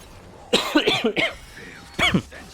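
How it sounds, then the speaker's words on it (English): A person coughs repeatedly and close to the microphone while streaming a Honkai: Star Rail game, a burst of several harsh coughs, a pause, then one more cough. "I know I'm coughing so much."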